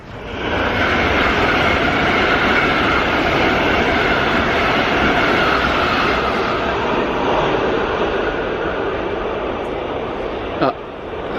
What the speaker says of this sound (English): That was a very fast train.